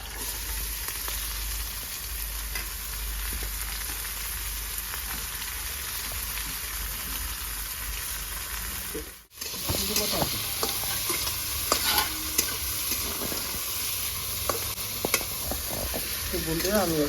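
Chopped onions and green chillies fry in hot oil in a village kitchen. A steady sizzle is joined by a sharper crackle and stirring after a brief drop midway, close and continuous.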